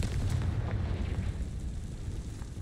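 An explosive spell going off in the Hogwarts Legacy video game, a deep rumbling boom that rolls on as low, steady noise, moderately loud, with no talking.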